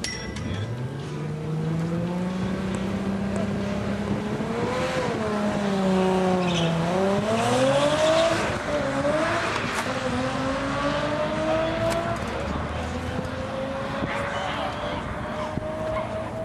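A Toyota Supra launches down a drag strip, its engine note climbing steadily through rising gear pulls with a brief dip at a shift, loud and continuous with faint tire chirp, under crowd and announcer chatter.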